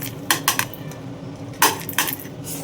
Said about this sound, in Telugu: ఇప్పుడు మిక్సీ జార్లో ఈ పోపు వేసేసుకుందాము